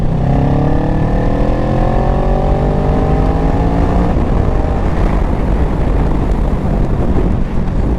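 A 650cc motorcycle accelerates hard, its engine note climbing through the gears before smooth downshifts; loud and continuous, with wind rushing across the microphone throughout.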